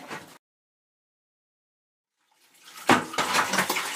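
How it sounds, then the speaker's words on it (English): Water from a disconnected sink drain pipe under a garbage disposal splashes into a bucket: a brief gush at the start, then near silence, then a steady splashing pour from about halfway through. "I'm putting this bucket to catch the water and undoing this other part of the pipe."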